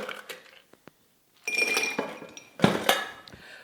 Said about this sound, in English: Our next step is we're going to put some ice in that shaker,